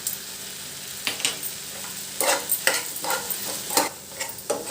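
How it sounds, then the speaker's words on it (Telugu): Tamarind fries in a pan for ridge gourd roti pachadi, with a soft continuous sizzle broken by repeated scraping strokes of a spatula stirring the mixture, close and fairly quiet. "ఇప్పుడు చింతపండు కూడా మెత్తబడే వరకు వేయించుకోవాలి."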